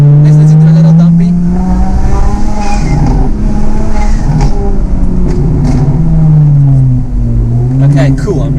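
Single-turbo BMW N54 engine runs loud and close, a strong continuous drone whose pitch sways up and down with throttle, with a voice talking over it.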